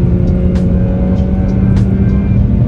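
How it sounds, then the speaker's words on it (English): A 2024 Nissan Sentra SV compact car with a 4-cylinder engine cruising at highway speed, heard from inside as a loud, steady engine drone and road rumble, with a couple of brief hissing bursts of wind. "Doing 60 miles per hour right now."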